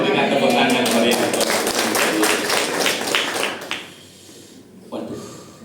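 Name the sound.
church congregation applauding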